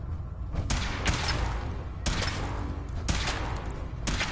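Weapon fire in the Fallout 4 video game: a series of loud, dense bursts of gunfire that recur roughly every second, with heavy thuds underneath, sounding close and continuous with no talk over it.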